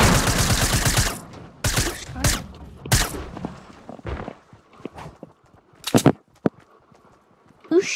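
Bursts of gunfire from a shooter video game crackle in rapid, uneven volleys, loud at first and then in scattered shots, with players' voices talking over them.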